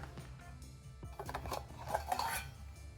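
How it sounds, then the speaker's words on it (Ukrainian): Five deep metal plates clink and clatter against each other, a run of bright knocks and scrapes close by, with no talking. "Глибокі металеві тарілки п'ять штук."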